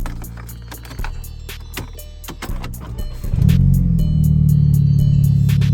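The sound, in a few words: car engine starting and idling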